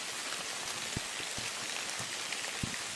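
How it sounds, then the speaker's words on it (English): Heavy rain pours steadily on a muddy forest campsite, a dense constant hiss with occasional louder drops landing close by. "Here's a neat little spot, other than it's raining like cats and dogs."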